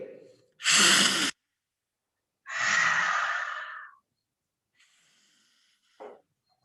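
Two deep, breathy airflow bursts, one short and one longer, during a yoga breathing exercise done with the hands in a set position, followed by silence and a faint brief breath at the end.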